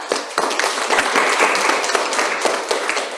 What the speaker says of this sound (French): M'applaudissez pour Sunil.